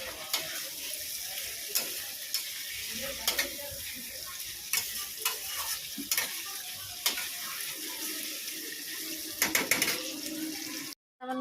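Curry being sautéed and stirred in a pan, with a constant sizzle and frying hiss broken by repeated sharp scrapes and clanks of the spoon against the pan, close and loud throughout, no talking.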